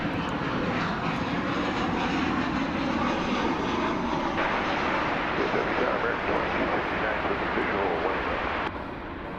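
An American Airlines jet airliner arriving at DFW Airport in the foreground produces a loud, sustained engine roar that holds steady before dropping a little near the end.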